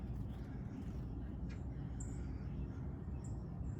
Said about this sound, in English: Look at them. Look at the little bird.